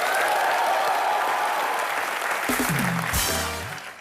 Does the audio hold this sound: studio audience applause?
yes